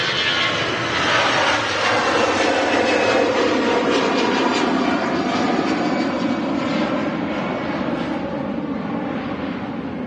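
An EasyJet airliner departs from runway 23 right at Manchester Airport, its loud, sustained jet engine roar filling the whole stretch steadily with no voices over it.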